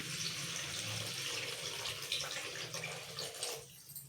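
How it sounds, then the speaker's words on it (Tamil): Water is poured into tomato paste in a pan for a tamarind kuzhambu curry, a steady splashing pour that runs for a few seconds and then stops abruptly. "இப்போ நம்ம இதுக்கு தேவையான தண்ணி ஊற்றிக்கலாம்."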